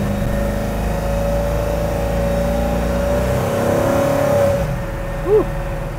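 A 1966 Chevrolet Nova restomod with a 5.3 liter LS V8 accelerates after shifting into second, a loud steady engine drone heard from inside the car that fades toward the end.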